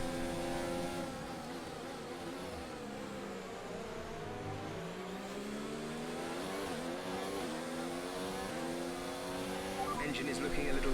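An F1 2019 video game race car engine, running warm, drones and revs continuously at the Chinese Grand Prix, pitch climbing and falling with gear changes, loud and steady, with a voice speaking over it.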